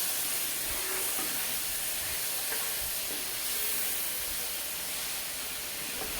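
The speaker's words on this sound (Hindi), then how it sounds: "टमाटर डालकर हम इसकी तरह भुनाई करेंगे।" Tomatoes fry in a pan for chicken aloo, giving a dense, constant sizzling hiss close by with a few faint stirring knocks underneath and no speech.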